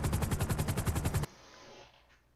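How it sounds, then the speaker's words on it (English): Video-game gunfire rips out in a rapid automatic burst of about a dozen loud, evenly spaced shots, then cuts off abruptly into a faint fading hum. "I have shots fired."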